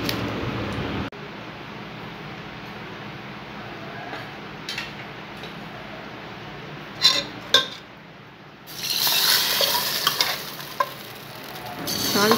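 A tempering of mustard seeds, curry leaves and chillies fried in oil is tipped into a chicken curry, giving a soft background of quiet pot sounds, then a short burst of loud sizzling and clinks near the end.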